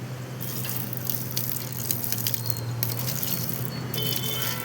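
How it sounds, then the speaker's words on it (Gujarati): Water is poured onto a small hand-made soil field, a continuous splashing gush with a few squishy drips over a steady low hum, and no voices. "अब पानी डालते हैं।"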